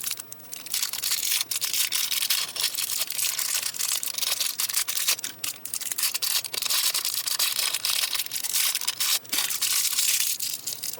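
Plastic packaging from a Mezco Toyz TMNT Casey Jones figure's two extra heads being unwrapped, continuous close crinkling and crackling of wrap with sharp rustling bursts throughout.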